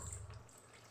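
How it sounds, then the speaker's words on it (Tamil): Water pours from a vessel into a pan of cauliflower gravy, a brief, faint, steady splashing trickle heard alone. "இதோட கொஞ்சமாக தண்ணி ஊற்றிக்கலாம்"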